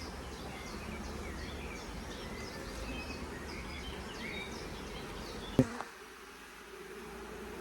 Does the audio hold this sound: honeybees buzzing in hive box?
yes